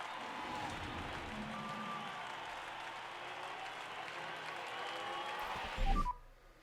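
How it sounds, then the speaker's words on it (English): Crowd at the Belgian Grand Prix in the F1 Manager 22 racing game, a continuous wash of cheering and clapping that holds steady and fairly loud before a brief louder swell and cutoff. "it seems like you can hear the excitement in the crowd here at the Belgian Grand Prix"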